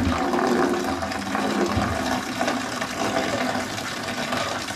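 Steady rushing hot water draining continuously from a wood boiler, a dense loud gush with faint clanks underneath, no voices.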